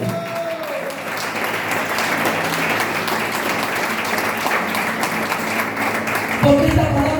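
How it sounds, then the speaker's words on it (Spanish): Church congregation applauds steadily, a dense wash of many hands clapping at moderate volume, with a brief voice or musical tone rising near the end. "Aplaudan que vive esa palabra."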